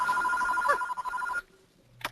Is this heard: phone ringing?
yes